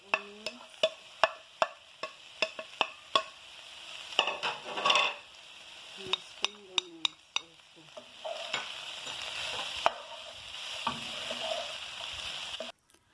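Slim noodles stir fried with onions and spring onions: quick clacking strikes of a utensil against the pan in bursts, with a soft sizzle underneath, close and fairly quiet.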